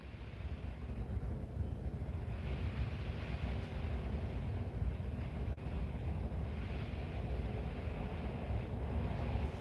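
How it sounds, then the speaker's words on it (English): Strong wind blowing outside, a steady roaring rush buffeting the microphone for the whole stretch, with no voices over it. "The wind is blowing like a raging wind outside there."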